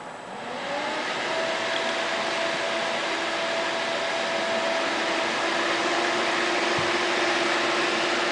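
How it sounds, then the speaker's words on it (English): Computer cooling fans on an overclocked, Swiftech Peltier-cooled system ramp up within the first second to a loud, steady whooshing drone with a faint tonal whine, holding constant throughout without speech. "I will go ahead and crank my fans up."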